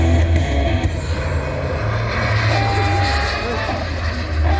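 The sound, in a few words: 1/5 scale R/C F-16 Fighting Falcon model jet flying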